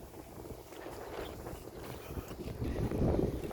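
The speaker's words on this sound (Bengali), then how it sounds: "হাওয়া হচ্ছে প্রচুর" Steady, broadband wind rushes and buffets the microphone, building louder toward the end, with no clear talk.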